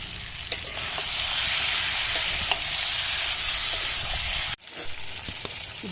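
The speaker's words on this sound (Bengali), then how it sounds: "এবার আমি দেবো এর মধ্যে কয়েক কোয়া গোটা রসুন।" Whole garlic cloves fry in a hot pan for a country chicken curry, giving a loud, dense, continuous sizzle up close that briefly cuts out near the end, then resumes more quietly.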